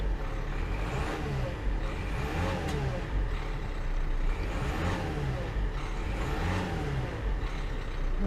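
A Nissan Qashqai J11 engine idles just after a 119-tooth timing belt replacement, giving a loud, steady, close running hum with a faint repeating cyclic swell and no talking.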